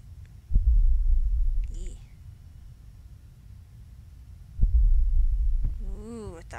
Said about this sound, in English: Ooh, I thought I heard like a heartbeat.